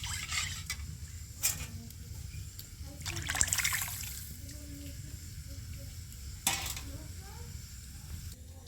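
About a kilogram of milk for payesh is stirred in a pot. Occasional scraping strokes and soft liquid swishes sit over a steady low rumble of heat, with quiet gaps between the stirs.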